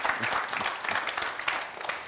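An audience claps steadily for a guest named Agozo on a Burkinabè TV variety show, the applause dense and continuous without pause.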